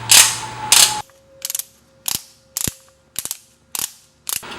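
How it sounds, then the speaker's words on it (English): Ratcheting clicks from a torque wrench being set to 118 foot-pounds while changing a tire on a Porsche Cayenne Turbo, with two louder bursts first and then a steady series of short, close mechanical clicks. "we have to set the torque wrench so that we know what torque we're at"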